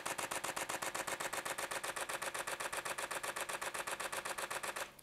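A Canon EOS R6 shutter fires in high speed continuous burst mode, a rapid, evenly spaced mechanical clatter of about eight frames per second lasting nearly five seconds, close and alone, ending abruptly.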